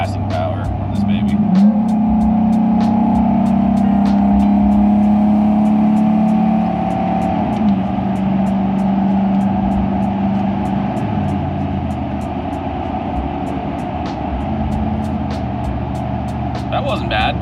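A 1996 Chevrolet K1500 pickup with a 5.7 V8 accelerates hard to pass on the road. The engine drone climbs and holds a strained pitch for several seconds, then eases back to a steady cruise, with occasional voices inside the cab.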